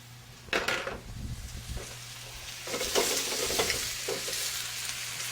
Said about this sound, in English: We're just going to saute this lightly, rendering some of the fat out of the andouille, getting the onions to go translucent on us.